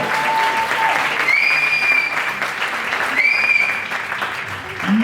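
Steady, dense crowd applause at a women's all-star football match, sustained and fairly loud, with a few whistles rising above the clapping.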